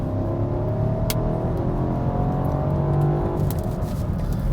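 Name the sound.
BMW X7 M60i engine revving while accelerating on slippery surface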